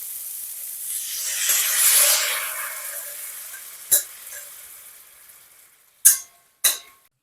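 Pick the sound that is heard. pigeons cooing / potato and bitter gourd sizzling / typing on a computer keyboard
potato and bitter gourd sizzling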